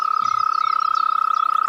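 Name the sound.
toad croaking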